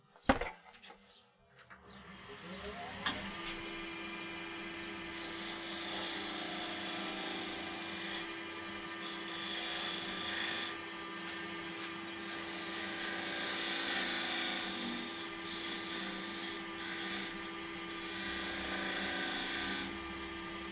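A thin gouge cuts wood spinning on a lathe at a live craft demonstration. The cutting makes a steady scraping hiss over the motor's constant hum, swelling and easing in bursts after a sharp knock at the start.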